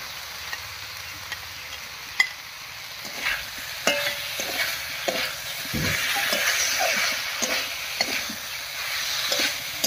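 Fried papaya pieces are stirred in a pan with spices, with an uneven sizzle and scattered scrapes and light clinks of a utensil against the pan. No one speaks.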